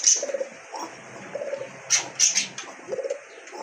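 Pigeons coo in a steady, repeating rhythm close by, with soft low calls returning several times and a few brighter chirps and flutters mixed in, no voices present.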